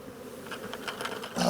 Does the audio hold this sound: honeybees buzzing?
yes